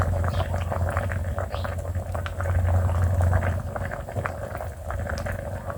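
An Isan bamboo shoot curry bubbles in a pot at a strong, steady boil, its close, continuous burbling and popping heard on its own without talk.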